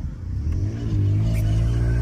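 A VW up! TSI with a Stage 2 tune drives in first gear, its engine droning steadily and rising in pitch as it pulls, with a loud, close rumble and no talking.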